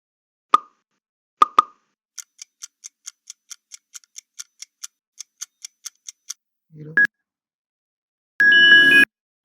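Quiz result sound effects played back in Canva: a few sharp pops, then a steady series of soft ticking clicks, a short tone and a closing burst of chime-like sound, clean and alone.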